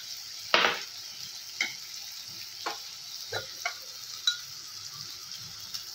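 Spices such as garam masala and coriander powder frying in hot oil for egg keema, a faint sizzle broken by a handful of sharp clinks from stirring, no voices.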